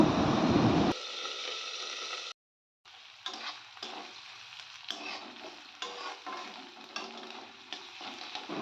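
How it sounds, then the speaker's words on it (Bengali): Onions frying in a pan as the base for egg curry, a continuous close sizzle with spoon stirring, broken by a brief silent gap before the frying resumes with irregular scraping strokes. "তো পেঁয়াজটা আমি একটু ভেজে নিলাম"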